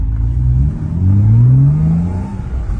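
A 2008 car with a 303-horsepower 3.4-litre naturally aspirated six-cylinder engine accelerates hard, its engine note rising steadily in pitch, loud and close, with no talking.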